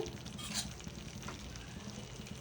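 Goat liver curry with turmeric being stirred in a pan: a steady, close scraping and shuffling with a soft sizzle underneath, one brief brighter scrape near the start, and no voices.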